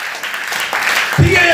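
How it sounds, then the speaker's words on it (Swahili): Congregation clapping in a church service during a Swahili sermon, a broad wash of many hands under a preacher's voice, growing louder toward the end. "Pigia Yesu makofi."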